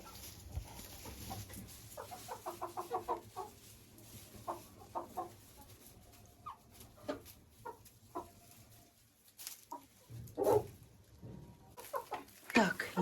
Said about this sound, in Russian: Это петух Фавероль.